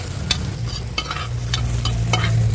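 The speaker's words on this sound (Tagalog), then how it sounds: "kaya ilalagay na natin yung ating sibuyas" Onions go into hot oil after browned garlic and sauté for a stir-fried vegetable dish. A loud, continuous close sizzle is broken by a few crisp spatula scrapes and taps.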